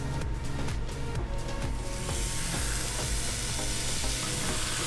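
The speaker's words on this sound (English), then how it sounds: "You hear that sizzle?" Seasoned cowboy steak sizzles steadily in a hot skillet, a dense continuous frying hiss that grows brighter partway through, with faint stirring clatter and no talking.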